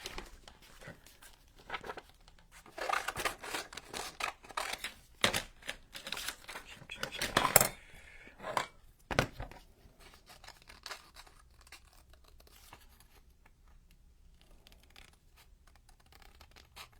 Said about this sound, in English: So let's cut this guy out.